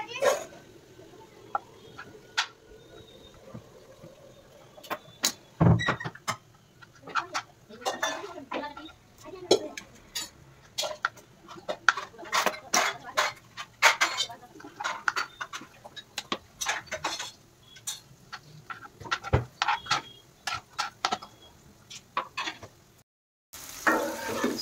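Chicken liver being cut with a knife in a village kitchen, irregular clacks and taps of the blade on a board and metal dishes, close and sharp, with a short quiet gap near the end.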